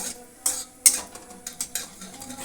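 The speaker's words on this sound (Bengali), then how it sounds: "সর্ষে ফোড়ন দেবো দেখো সর্ষেটা কীভাবে চটপট চটপট করে ফুটে" Mustard seeds crackle and pop in hot cooking oil as a tempering, with scattered sharp snaps at irregular intervals, a few louder pops standing out over a faint background.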